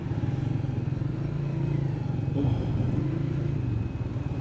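Heavy city road traffic in Narowal with cars and motorcycles, a steady close drone of engines and rolling tyres without talk.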